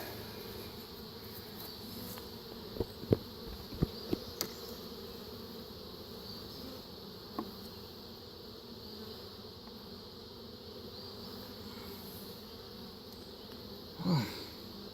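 A faint, constant hum of many honey bees in an open hive fills the air, broken by a few soft clicks and a brief closer buzz near the end.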